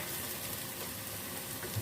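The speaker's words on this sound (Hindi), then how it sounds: "प्याज को फ्राई करते हुए ही साथ में ही हम लहसुन ऐड कर देते हैं" Onion and garlic frying in a pan, a dense, steady sizzle that fills the short stretch without pause, close and fairly loud.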